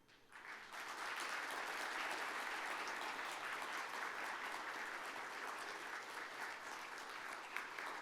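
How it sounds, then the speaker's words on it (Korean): A ceremony audience, at the 2022 Samsung Ho-Am Prize awards, breaks into sustained applause that rises quickly and holds steady, a dense wash of many hands clapping at a moderate distance. "계속해서 큰 박수로 축하해 주시기 바랍니다"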